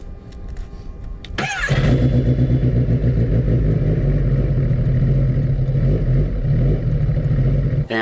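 A Kawasaki ZX-10RR sport motorcycle engine cranks and fires up close by, then settles into a loud, steady, throbbing idle that runs to the end with no talk over it.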